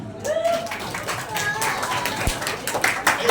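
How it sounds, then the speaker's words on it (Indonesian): A few people clap briefly and unevenly at a vow renewal ceremony, light irregular claps mixed with murmuring voices in a room. "Oke, tepuk tangan"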